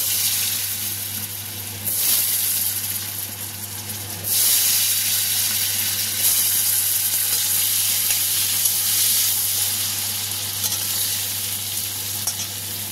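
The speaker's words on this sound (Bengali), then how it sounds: "আমি ওই কড়াইতে আলুগুলোকে ভেজে নেব।" Potatoes fry in hot oil in a wok with a continuous loud sizzle that surges stronger about a third of the way through and holds steady after.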